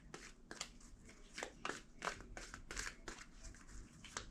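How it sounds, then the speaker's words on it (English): Tarot cards being shuffled by hand in a quiet room, a series of crisp riffling and slapping bursts at an uneven rhythm, fairly close and soft, with no talking. "2 more shuffles."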